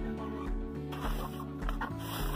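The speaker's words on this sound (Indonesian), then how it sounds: "Yang ayam yang itu mau bertelur juga dia" A hen clucking in a chicken coop, short nasal clucks in an uneven rhythm, close by, with faint background noise.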